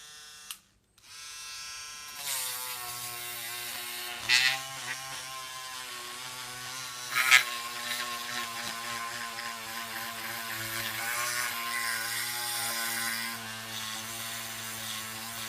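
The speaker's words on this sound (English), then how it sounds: "Another little magic tool from Proxon is this miniature sander" A Proxxon miniature sander runs on white wooden deck planking for a model ship, a steady close buzzing hum that starts after a brief click and continues, with a couple of louder bumps as it presses against the wood.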